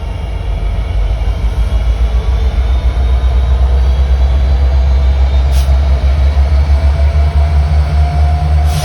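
A freight train reverses slowly into a rail yard, a loud steady diesel rumble with a low engine drone and faint metallic wheel squeal, close by and alone without talk.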